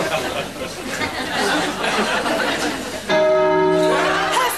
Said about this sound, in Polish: Herr Flick, utknąłem między dzwonami